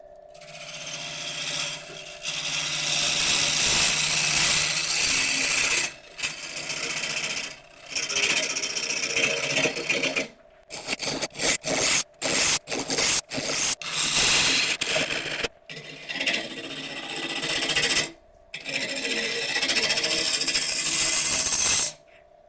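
Gouge cutting into a wood burl spinning on a lathe, a loud continuous broadband scraping roar with a steady hum, broken by repeated short pauses and rapid stop-start bursts near the end.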